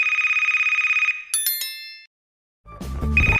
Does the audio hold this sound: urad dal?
no